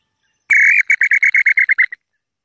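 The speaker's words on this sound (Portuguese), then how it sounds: "E o Bacurau cantando bem aqui." A bacurau, or pauraque nightjar, sings nearby in a clear, loud whistle: one long drawn note followed by a rapid run of about ten short repeated notes, with silence around it.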